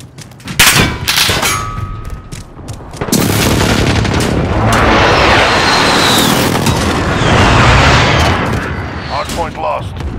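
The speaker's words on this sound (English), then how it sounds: "Airstrike on the way." Video game battle on an oil rig map: sharp metallic impacts and gunshots give way to a long roaring rumble of airstrike explosions, loud and close, with game radio voices over the top.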